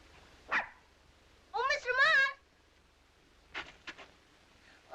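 Puppies bark and yip in a few short bursts, one sharp yelp followed by a longer cluster of high, wavering yaps and later some fainter barks, with quiet stretches in between.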